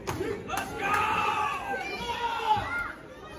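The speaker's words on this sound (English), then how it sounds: "The crowd is loud and proud here for Zeke Dynamics." A wrestling crowd cheers and shouts loudly for Zeke Dynamics at a Heritage Championship match, a dense, sustained roar of many voices with bursts of yelling and a swell near the end.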